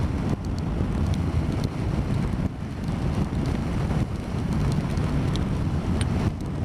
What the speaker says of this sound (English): the wind has got up even stronger